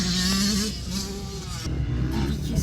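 A motocross motorcycle rides on a dirt track, its engine droning close by with a buzzing tone whose pitch shifts as the rider changes speed, with no voices over it.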